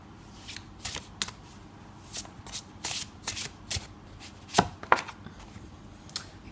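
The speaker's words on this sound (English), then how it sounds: "Let's lay out one more card here for you," Tarot cards are shuffled and laid out on a surface, giving a scattered series of crisp riffles, slaps and flicks, close and moderately loud, with no talk.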